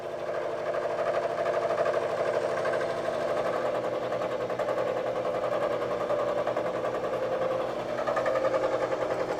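A milling machine cuts metal with a coarse corn-cob roughing end mill turning at 500 RPM, giving a steady, loud, gritty chatter that grinds on continuously with a slight dip and rise near the end.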